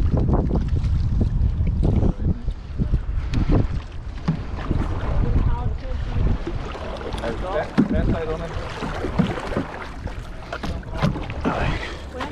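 Canoe paddles splash and knock against the hull out on the water near Enniskillen, under gusty wind noise on the microphone while several people talk and call to each other throughout.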